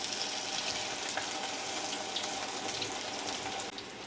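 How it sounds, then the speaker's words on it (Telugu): Garelu, lentil fritters, fry in hot oil with a steady, dense crackling sizzle that runs evenly throughout at close range, with nobody speaking. "ఈ గారెలను గోల్డెన్ బ్రౌన్ కలర్ వచ్చేంత వరకు వేయించాలి"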